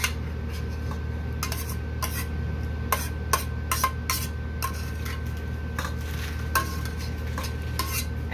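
Corn and black beans stirred in a pot make a series of sharp, irregular clinks and scrapes of a utensil against the cookware over a low steady hum, with no voices.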